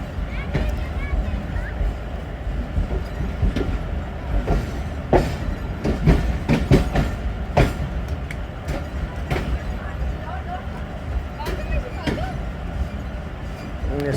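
Awam Express train at Taxila Cantt Junction, with wheel clatter, clicks and squeals from railcars over a steady low rumble, heard close among platform activity and background voices.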